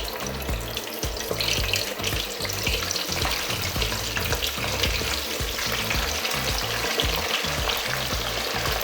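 Chicken wings seasoned with lemon pepper deep-fry without flour in hot oil, a loud, dense, continuous sizzle and bubbling that holds steady throughout with no speech.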